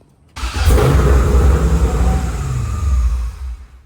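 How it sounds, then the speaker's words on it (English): A car engine roars loudly at wide-open throttle, bursting in abruptly and holding a strong, rising rev for about three seconds before easing slightly. "Yeah, throttle blade's wide open now."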